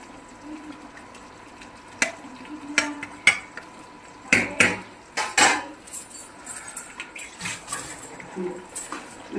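Eggplant pieces frying in a pan, a soft sizzle under repeated sharp clinks and scrapes of a metal utensil against the cookware, irregular and close, with no talking.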